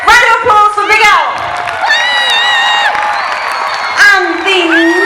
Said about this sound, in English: Round of applause for Big Al.